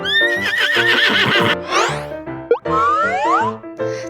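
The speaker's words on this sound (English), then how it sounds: "This is a horse." A horse gives a loud, quavering neigh at the start, followed by bouncy cartoon effects and bright music in a children's farm-animal lesson.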